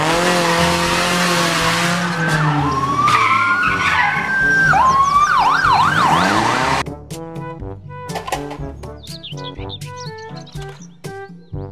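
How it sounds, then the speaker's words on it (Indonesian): Warbling, sweeping siren wail from a toy police patrol car, loud and close for about seven seconds, then giving way to busy chirpy electronic tones. "Mobil patroli polisi."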